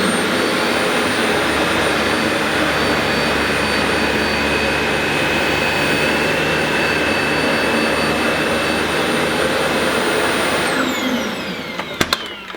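Dyson Light Ball upright vacuum cleaner running continuously over dog hair on the floor, a loud, steady whine that holds for about eleven seconds before shutting off with a few clicks at the end.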